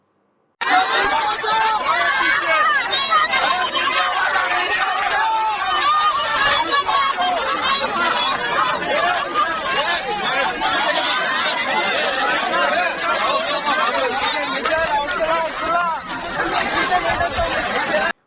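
A large crowd in Balochistan pushing back Pakistani forces, with many voices chattering and shouting at once in a dense, continuous babble that carries on throughout.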